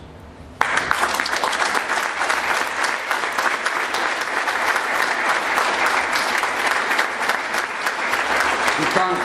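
An athletic hall of fame audience breaks into sudden, loud applause for a soccer team's team mum, dense clapping starting abruptly and holding strong throughout, with faint voices mixed beneath.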